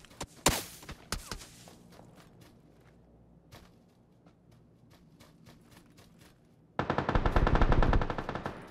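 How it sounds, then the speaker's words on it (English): Gunfire in the battle royale game PUBG, with scattered single shots and soft footsteps early on, then a dense, loud automatic burst near the end. "Where am I even getting shot from right now?"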